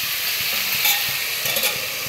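Vegetables including bean, potato and beet frying in a pan, a steady close sizzle with occasional stirring scrapes and clinks, no talk.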